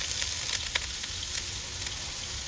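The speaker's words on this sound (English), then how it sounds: "They're sizzling." Onions fry in olive oil in a pan outdoors, a dense steady sizzle with faint crackles and a few small stirring clicks, close and fairly loud, nobody speaking.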